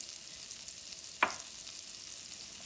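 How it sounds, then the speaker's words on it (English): Green chilies hit hot butter in a pan, giving a steady faint sizzle with one brief louder crackle partway through. "To this butter I will add in some green chilies"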